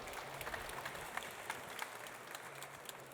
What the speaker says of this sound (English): Round of applause, Thank please, you.